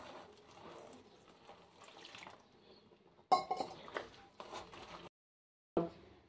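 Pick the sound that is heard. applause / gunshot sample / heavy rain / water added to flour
water added to flour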